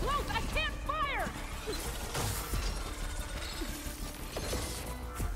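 A robotic machine enemy in Horizon Forbidden West moves nearby with ratcheting, gear-like mechanical clatter, rising and falling synthetic chirps and whirs, and occasional metallic knocks over a dense, continuous game soundscape.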